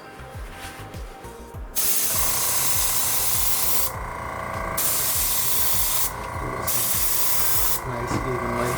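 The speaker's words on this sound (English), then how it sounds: "This comes out, at least in my airbrush, it comes out extremely fast." An airbrush sprays paint onto Nike slides in close, loud, steady hissing bursts, cut by a few short pauses, while someone talks underneath.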